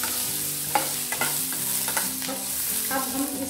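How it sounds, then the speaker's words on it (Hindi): Onions lightly frying in a pan crackle softly under repeated scraping of a spoon as they are stirred, close up and continuous. "प्याज हमारे को ज़्यादा नहीं भूनना है, बस हल्के से हमारे को ना थोड़ा सा इनको भूनना है"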